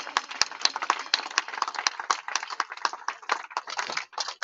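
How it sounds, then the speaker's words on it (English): A crowd gathered at the finish of the 2022 Atlantic ocean rowing race in Antigua applauds a rowing couple, with crisp, scattered handclaps of many hands rattling on steadily, fairly close and slightly thin. "A big applause, ladies and gentlemen."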